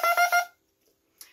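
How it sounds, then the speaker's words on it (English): A bassoon's double reed of two cane blades bound with thread is blown on its own, making three short, bright, buzzing squawks in quick succession, then a faint trailing squeak. "I blow through a reed that is two pieces of cane that are wrapped together by a thread, and they vibrate when I blow through it"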